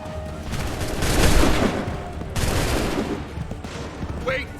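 Musket volleys crack out in Assassin's Creed III, a dense ragged burst of massed gunfire building to a loud peak, a second volley rolling in midway, with faint shouted orders over the battle din.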